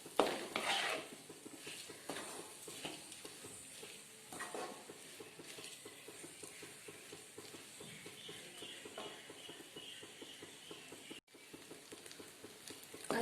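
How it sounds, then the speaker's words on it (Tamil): Rice being sautéed with mint in ghee gives a soft, low frying sizzle broken by intermittent scraping stirs of a spoon in the pan, fairly quiet and steady throughout, with no one speaking. "அரிசி போட்டு ஒரு 2 நிமிஷம் நல்லா வதக்கிக்கலாம்."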